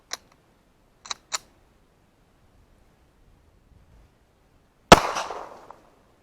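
A single loud 9mm gunshot from a 115 grain brass cartridge with a lead bullet, fired outdoors at pest control, with a sharp crack and a short decaying tail, preceded by a few faint clicks.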